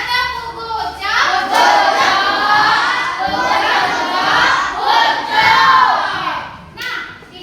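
A school class shouts the tepuk kucok clapping chant together, with loud rhythmic group chanting and children's voices in bursts over several seconds, hand claps blended into the crowd noise.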